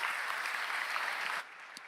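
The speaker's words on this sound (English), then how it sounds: "Another round of applause for you." Conference audience applauding, a dense, even burst of many hands that cuts off sharply after about one and a half seconds, leaving a quiet room tail.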